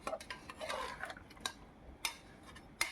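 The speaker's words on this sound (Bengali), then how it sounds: "ভালো করে একটু নাড়ি চাড়িয়ে নিচ্ছি" A spoon stirs chicken and potatoes in a pressure cooker, scraping and clinking against the metal in a few light, scattered strokes, faint and close up, with no talking.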